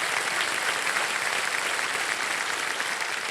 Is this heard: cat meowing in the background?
no